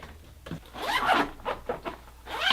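A zipper pulled open on a bag of roof top tent mounting hardware, a few quick close ripping zips in short bursts, loud and near.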